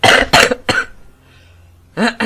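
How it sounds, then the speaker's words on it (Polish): A person coughs in a quick cluster of three harsh bursts, pauses briefly, then coughs twice more, close and loud, with no talking over it. "Jeszcze kaszel"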